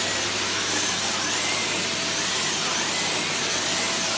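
Dyson CY22 Cinetic Big Ball Animal cylinder vacuum cleaner running steadily on a thick, hard-to-clean rug, a loud continuous broadband roar with no talk over it.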